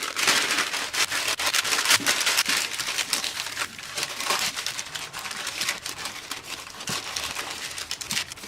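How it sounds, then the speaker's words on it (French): Parchment paper handled and pressed into a buttered baking mould gives a steady, close crinkling and rustling with soft patter throughout, no voices. "on beurre le moule et on y place la feuille de papier sulfurisé"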